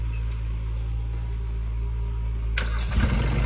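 A modified Swaraj 855 tractor engine cranks and catches near the end, a loud diesel rumble rising to a rough idle over a steady low-pitched drone, with no voices.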